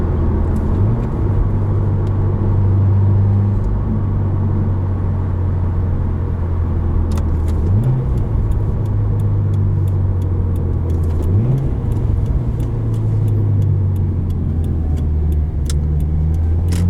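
A 2017 Subaru WRX engine drones steadily from inside the cabin, its pitch dropping and climbing again three times as the manual gearbox is shifted, over constant road rumble.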